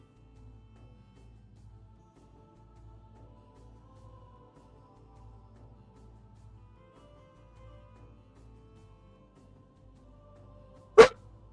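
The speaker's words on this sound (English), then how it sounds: "Oh, that was loud, dog." A single loud, sharp dog bark bursts out near the end after a long stretch of faint, low indoor hum.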